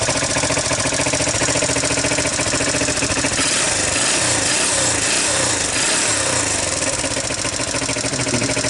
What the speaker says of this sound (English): Idling here for a half hour.